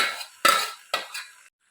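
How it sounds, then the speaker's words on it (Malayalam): Cooked, drained macaroni is stirred into a pan of fried spice powder: a few distinct scraping strokes of a spoon against the pan, close and fairly loud, with no talking. "വേവിച്ച് ഊറ്റി വെച്ചേക്കുന്ന മക്രോണി ചേർത്ത് ഇളക്കിയെടുക്കാം"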